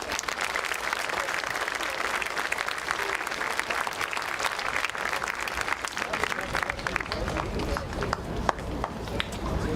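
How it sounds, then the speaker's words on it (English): A steady round of crowd applause at an outdoor high school Patriot Day assembly on a football field, continuous and fairly loud throughout, with some voices mixed in beneath the clapping. "Please give them a round of applause."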